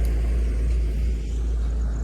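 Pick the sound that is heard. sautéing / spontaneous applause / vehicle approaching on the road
vehicle approaching on the road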